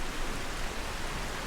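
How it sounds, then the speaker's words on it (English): Heavy, steady rainfall in the video game Skyrim, a dense unbroken hiss of rain that holds at an even loudness throughout, with no voices. "wow, that is a lot of rain."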